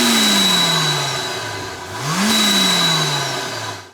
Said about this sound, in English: That supercharger makes a really unique noise